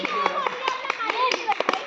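In a school classroom, children clap in a loose, irregular patter of separate sharp claps, near and clear, while kids' voices talk and chant over them.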